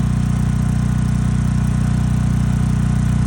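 A portable generator for whole-house backup power runs inside a sound-dampening shed fitted with a muffler, giving a steady, muffled low engine drone with an even throb and no change throughout.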